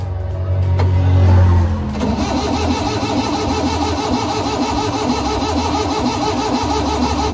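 An overhauled engine cranks with a loud churning burst, then catches and settles into a steady idle with a rapid, even rumble close by, with no talking over it.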